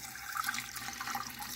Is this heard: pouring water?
yes